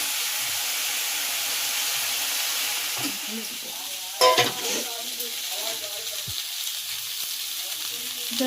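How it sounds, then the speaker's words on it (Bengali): Vegetable stems with spices stir-fried in a pan for sukto, a steady hiss of frying with a few scraping stirs and a sharp clatter of the utensil in the middle. "এবার আমি ওই ডাঁটার সঙ্গে দিয়ে একটু নেড়ে করে ভেজে নেব।"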